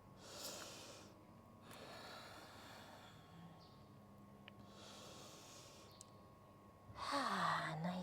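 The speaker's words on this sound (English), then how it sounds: "taking a deep breath." A long, breathy exhale and inhale during a yoga flow, soft and close, swelling and fading in slow cycles over a low steady background hum.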